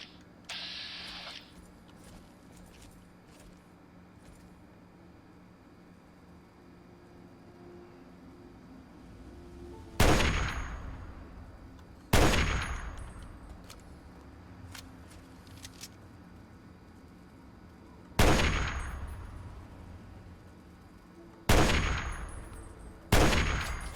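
Gunshots in the video game Fallout 3 fire as five sharp, loud reports spread unevenly over the second half. Each has a short decaying tail over a steady low background hum, and there is no talk.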